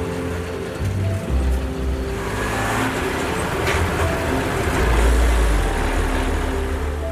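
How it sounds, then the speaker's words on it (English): Steady low rumble and rattling inside the back of a crowded truck on a rough road in Madagascar, a continuous engine drone with jolts and clanking mechanical noise throughout, fairly loud and with no voices. "there's still 35 miles of rough roads left that we'll take in this awesome rainbow truck"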